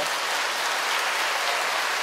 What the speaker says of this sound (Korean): 우리 큰 박수로 한번 환영해 주시고요